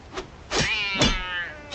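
A cat in the Tibia video game lets out several short, whiny meows in quick succession, clear and fairly close, with no voices over them.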